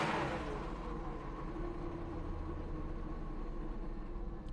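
A car engine, just cold-started after battery and starting trouble, revs up briefly with a steady broadband roar and low rumble, then holds a loud even drone throughout.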